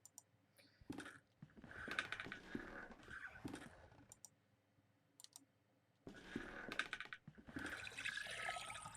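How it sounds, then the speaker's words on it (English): Water drains through an opened valve in The Last Door video game, a gurgling, trickling flow in two bursts separated by near silence, mixed with small clicking sounds. "When I open the valve, it will drain the water until all the water has been removed."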